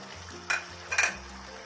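A spoon scrapes and stirs through chicken curry with grated dried coconut in a pan, with two short scraping strokes over a low, steady sizzle.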